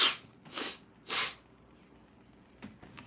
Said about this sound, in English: Felt like I needed to sneeze again.